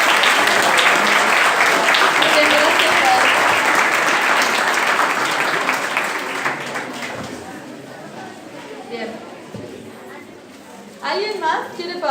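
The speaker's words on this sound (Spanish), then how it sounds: "Un aplauso." Classroom applause for a student's math solution: a dense burst of many hands clapping that thins out and fades, followed by faint voices speaking afterward.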